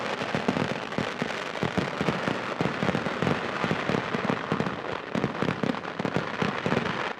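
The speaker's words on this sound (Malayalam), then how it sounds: "രണ്ടാമതായി തിരുവമ്പാടി വിഭാഗം വെടിക്കെട്ടിന്റെ വർണ്ണശബ്ദ ദൃശ്യവിസ്മയം കാഴ്ചവെച്ചു." Thiruvambadi's fireworks display at Thrissur Pooram, heard as a dense, continuous barrage of rapid cracks and bangs that carries on without a break and without talk.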